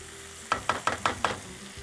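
Stirring and sautéing in a hot pan after coriander leaves go in, five evenly spaced scraping strokes over a soft sizzle, close and fairly quiet.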